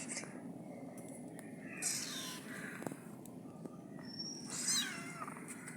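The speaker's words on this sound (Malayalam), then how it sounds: "2 പൂച്ചയും കൂടി ഉണ്ട്." Small kittens meowing, a few short high-pitched cries scattered over steady background noise, with faint voices nearby.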